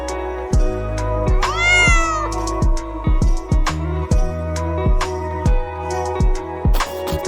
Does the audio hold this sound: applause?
no